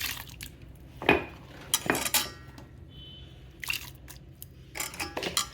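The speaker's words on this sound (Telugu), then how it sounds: "ఇప్పుడు ఈ చింతపండు గుజ్జులో ఈ ఉల్లిపాయ ముక్కలు వేసేసుకుందామండి." Onion pieces dropped into tamarind pulp and mixed, giving a handful of scattered clinks and wet knocks against a dish at close range with quiet gaps between them.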